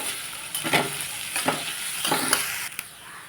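Finely chopped capsicum frying with onion in a pan for a spicy pasta, a soft hiss broken by repeated spatula sweeps and scrapes about every half second, close up and without talk.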